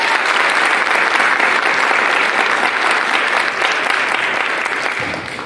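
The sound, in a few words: audience applause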